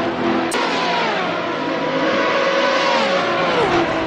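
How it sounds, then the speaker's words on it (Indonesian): A racing motorcycle engine revs, a loud, sustained high-pitched whine that rises and falls in pitch, close and continuous. "Ini motor balap."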